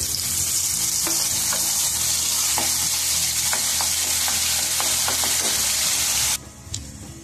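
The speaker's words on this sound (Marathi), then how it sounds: "ही पेस्ट आपण तेलामध्ये टाकून देऊ" Onion, tomato and garlic paste hitting hot oil with crackled cumin for a jackfruit curry gives a loud, steady sizzle, with scattered stirring clicks, until the frying noise drops away near the end.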